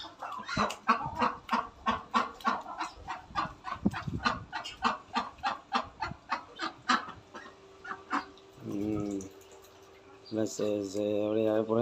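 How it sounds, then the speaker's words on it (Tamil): Hens cluck and peck around a garden where ducks and chickens are kept, with rapid repeated clucks and taps close by at first, then a few drawn-out calls toward the end. "கோழி கொத்துது வருது."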